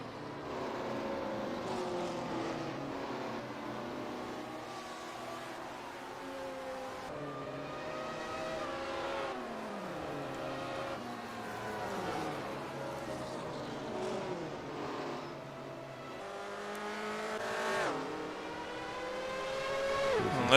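Open-wheel USAC race cars lap a 1978 oval race in close sequence, layered engine whines sweeping up and down as several cars pass in turn, loud and continuous with no pause.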